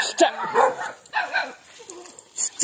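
A large dog barks on a farm in a few sharp, close bursts. Yips and whimpers fall between the barks, and a person talks briefly.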